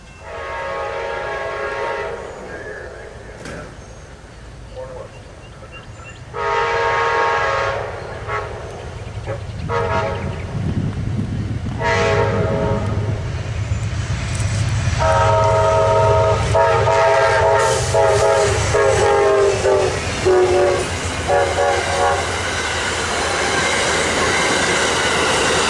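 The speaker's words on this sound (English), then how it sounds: "Amtrak Train 97 made its way through Folkston with the Ohio Central Sugar Creek private car on the rear of the southbound Silver Meteor" Amtrak Train 97, the southbound Silver Meteor with the Ohio Central Sugar Creek private car on the rear, rumbles through Folkston, Georgia, its horn sounding in repeated long blasts over the steady roll of the passing cars.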